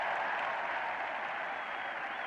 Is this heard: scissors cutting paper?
no